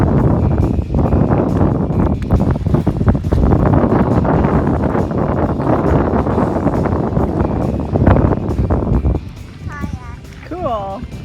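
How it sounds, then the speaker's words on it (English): Strong gusts buffet the microphone during a kayaking outing, a loud, roaring wind noise dominating throughout, with brief voices breaking through near the end as the wind eases. "the wind is so strong"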